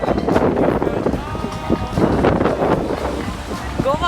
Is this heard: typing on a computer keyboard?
no